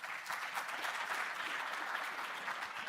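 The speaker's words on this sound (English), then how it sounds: "Let's give them a round of applause." An audience at the Limpopo Investment Conference applauds a panel with steady, dense clapping that holds at an even level for the whole stretch, with no voices over it.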